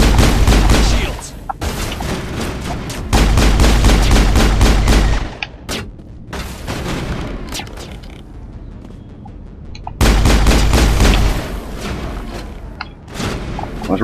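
Sci-fi gunfire in a Mass Effect firefight against geth on Feros: loud rapid bursts of weapon fire in long sustained volleys, broken by short lulls and sharp single shots, close and harsh.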